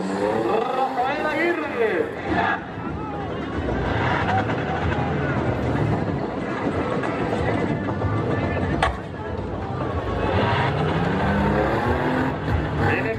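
A six-cylinder 4x4 race vehicle at a national championship in Panama revs and roars into the last curve, its engine pitch rising and falling close by, while an excited commentator talks over it.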